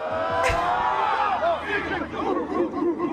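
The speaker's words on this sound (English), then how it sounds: "you can hear the people cheering" Crowd noise at a football national championship victory parade in Athens, Georgia: a dense, loud wash of cheering voices and shouts with babble throughout, rising and falling in swells.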